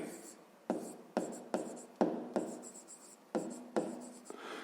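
A pen writes fractions by hand on paper in a series of short scratchy strokes, about eight close bursts in an uneven rhythm, quiet and without speech.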